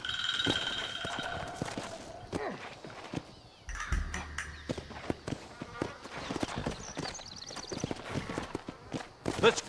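Horses in the Red Dead Redemption video game clip-clop in steady hoofbeats under background game sounds, with crows cawing faintly and a horse whinnying briefly; a voice speaks at points.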